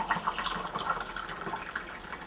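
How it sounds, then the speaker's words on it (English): Water poured from a pint measure into a saucepan while making sugar syrup to feed honey bees: a steady splashing, gurgling rush that runs throughout, close and fairly loud, with no talking. "Another pint of water."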